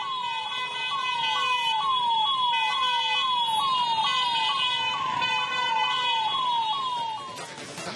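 An ambulance siren wails in a steady, rapidly repeating rising-and-falling pattern, loud and close, while it sits stuck in a traffic jam near the CBT in Dharwad, with a continuous rumble of traffic underneath.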